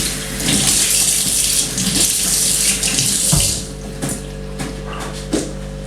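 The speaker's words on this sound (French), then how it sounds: "Laissez-moi mettre juste un petit coup à mon évier," Tap water gushes loudly into a kitchen sink, rushing steadily as the basin is rinsed of crumbs, broken by a few light knocks and splashes while the flow keeps running.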